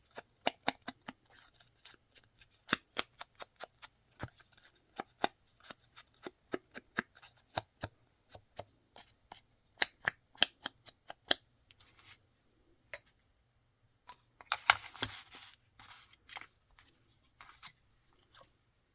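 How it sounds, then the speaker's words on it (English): Scissors snip through paper for a Christmas snippet flower craft, giving a steady run of close, crisp cuts, then a pause, a short rustle of paper and a few final snips. "Let me cut this out."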